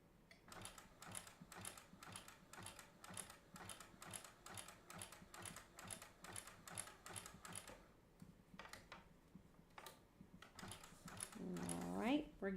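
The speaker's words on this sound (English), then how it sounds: "I never touch my bobbin tension on this machine, but I do adjust my upper tension" A sewing machine stitches a quilted table runner, giving a quiet, even, rapid mechanical rattle in regular bursts with short pauses, and talk near the end.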